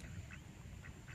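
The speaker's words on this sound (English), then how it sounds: "that duck's coming up to you." A duck on a beach gives a few faint, short quacks at a distance over a steady hiss of wind and surf, with no talk.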